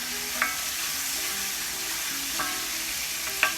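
Garlic frying in a pan for garlicky spaghetti, a steady low sizzle broken by three short scraping stirs at regular intervals, close and moderately quiet, with no voices.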